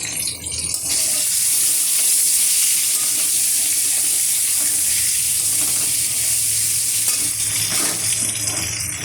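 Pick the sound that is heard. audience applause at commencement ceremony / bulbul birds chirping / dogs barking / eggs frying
eggs frying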